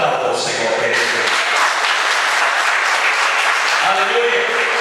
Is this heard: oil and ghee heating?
no